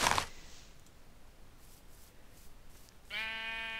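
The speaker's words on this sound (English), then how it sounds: "Most definitely mine is sheep, sheep, and more sheep." Minecraft sheep bleat in a video game: a brief bright bleat at the start, then a quiet pause, and a second sustained, strongly harmonic bleat near the end, close and clear with no talking.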